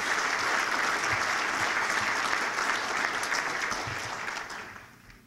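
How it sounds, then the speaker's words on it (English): A roomful of people at a chamber of commerce breakfast gives a sustained round of applause for board of trustees members, steady dense clapping that gradually thins and fades out. "let's have a round of applause for all those Board of trustees"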